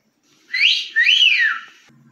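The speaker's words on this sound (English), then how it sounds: "Damn it, why did you whistle at my girl?" A person gives a loud, close two-part whistle, a rising then falling swoop followed by a second longer arc, heard alone before a faint sound starts at the end.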